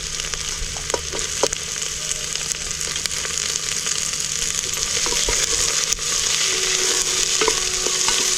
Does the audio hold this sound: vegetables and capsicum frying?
yes